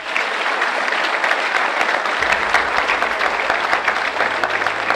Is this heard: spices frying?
no